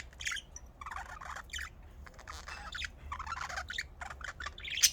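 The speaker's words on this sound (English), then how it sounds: "Is that a bird?" A bird calls in scattered bursts of chirps and squawks, fairly close and moderately loud, with short quiet gaps between calls and no voices.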